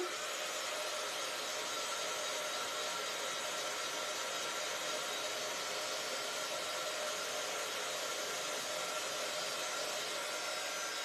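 A heat embossing tool blows hot air onto a card in a steady, even whoosh, held continuously at moderate loudness with no talking.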